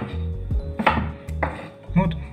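A knife chops potatoes into large chunks on a cutting board, four sharp, close knocks at a steady, even rhythm, with faint kitchen clatter between strikes.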